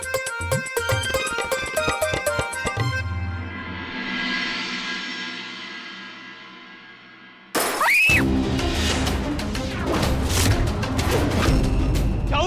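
Glass shatters and breaks loudly in a domestic drama scene, a crashing burst of fragments after a tonal passage with a falling sweep, then a dense, noisy cascade of debris that continues to the end. No one speaks.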